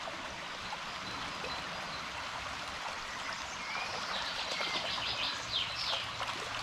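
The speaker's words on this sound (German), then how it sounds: "Das ist der Quellbach." A spring-fed brook flowing steadily as a continuous soft rushing murmur, with faint birdsong chirping higher above the water toward the end.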